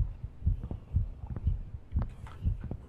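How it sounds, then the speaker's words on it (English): Heartbeat effect from a horror video game: steady, low, muffled thumps in a regular rhythm, fairly loud and close, with faint game ambience behind. "Can you guys hear my heartbeat?"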